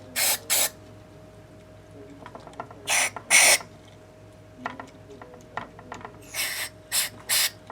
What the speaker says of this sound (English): Got some of this electric cleaner. We're going to spray it in like this.